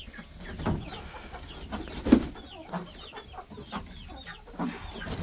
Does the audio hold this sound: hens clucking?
yes